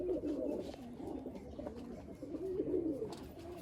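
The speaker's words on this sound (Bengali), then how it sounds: "একটা কত সুন্দর মালবাই দেখুন, খুব পছন্দের পায়রা একটা" Punjabi Malwai pigeon cooing close by, a steady run of low, throaty rolling coos that swell and repeat through the whole stretch, with no voices over them.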